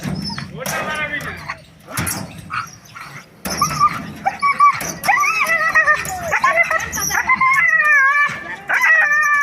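A dog whimpers and yelps repeatedly in high, wavering cries, close and fairly loud, mixed with people talking.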